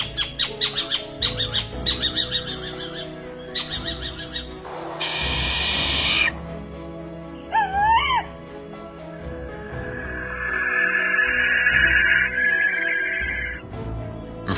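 British owls calling: several bursts of rapid pulsed calls, a harsh drawn-out screech, then wavering hoots and a long thin whistling call, all clear and fairly close against a quiet background.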